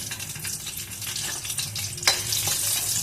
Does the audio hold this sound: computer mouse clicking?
no